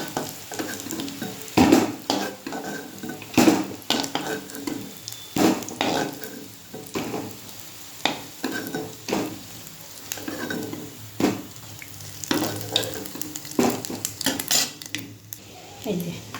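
Fried food sizzles in a pan while a utensil scrapes and clatters against the metal in irregular bursts, lifting pieces out, with the sizzle steady underneath.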